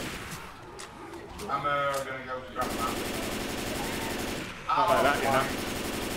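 Gunfire in the video game Left 4 Dead 2: a few scattered shots, then sustained rapid automatic fire rattling on through the second half, with a player's voice talking briefly over the game audio.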